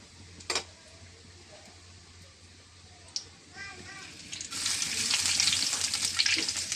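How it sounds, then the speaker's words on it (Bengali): Nigella seeds frying in hot oil for a hilsa curry cooked without onions: faint ticks and a couple of clicks at first, then the sizzle swells into a loud, bright crackle for the last few seconds. "কালি জিরা গরম হচ্ছে"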